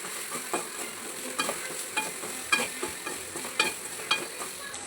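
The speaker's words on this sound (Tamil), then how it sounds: "நல்லா வதக்கிக்கோங்க. நல்லா வதக்கணும்." Onion and grated coconut with salt sauté in a pan, a steady sizzle punctuated by regular spatula scrapes and taps, close by with no talking.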